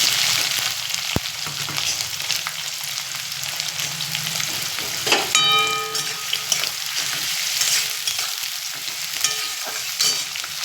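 Chopped onion sizzles steadily in hot oil in a pan with cinnamon and cardamom, a loud continuous frying hiss broken by a few utensil clinks as it is stirred.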